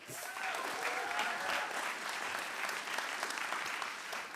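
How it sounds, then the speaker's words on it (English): An audience at a technology and democracy conference applauds, a full crackle of many hands clapping that swells quickly and stays lively for several seconds. "A round of applause for them as well."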